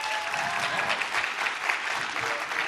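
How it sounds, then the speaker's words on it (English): Audience applause at a science storytelling show at a geoscience conference, a dense, steady burst of clapping from a sizeable crowd lasting the whole moment. "So by a round of applause, how many of you are here at Story Collider for the first time?"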